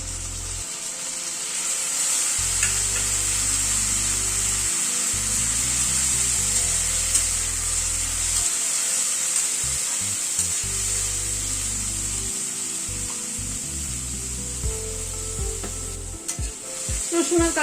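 Garlic and green chilli paste sizzles steadily in a hot pan while a utensil stirs it in repeated scraping strokes, the frying hiss continuous and close throughout.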